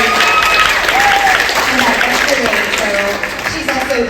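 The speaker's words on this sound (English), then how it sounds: "And big round of applause for Jillian today." Audience applause at a student matinee talkback for a stage production of Charlie and the Chocolate Factory, steady dense clapping throughout with voices talking over it.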